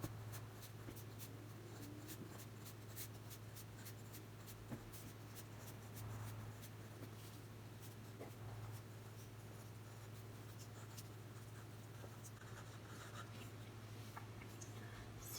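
A 2H pencil writes numbers on paper: faint, intermittent scratching strokes over a quiet room hum, close to the mic.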